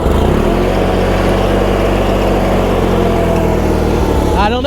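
An Allis Chalmers tractor engine at a show, run with a little choke and revved up, a loud, steady, rumbling drone that holds throughout and shifts slightly at the very end.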